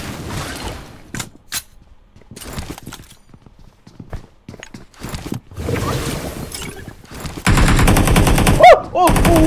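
Gunfire in PUBG Mobile: scattered single shots and short bursts break through quiet stretches, then turn into sustained, loud automatic fire near the end.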